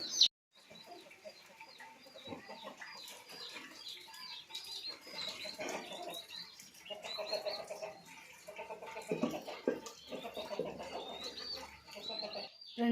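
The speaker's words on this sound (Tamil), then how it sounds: "மழைன்றதுனால உள்ளர வந்து கோழி படுத்துருக்கு." A chicken clucks softly and repeatedly indoors, sheltering from the rain, with scattered low calls and a brief rustle or flap amid a quiet room.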